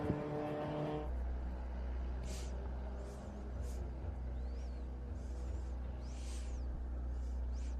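MGA sports race cars compete at Watkins Glen during a vintage SpeedTour race. Engines drone steadily at a moderate distance, with a brief louder burst at the start and faint high squeals over the running noise.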